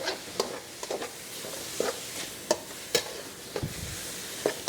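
Rice cooks in a pan with a little water instead of oil, giving a soft constant sizzle broken by repeated sharp scrapes and clicks of a stirring utensil, with no talking.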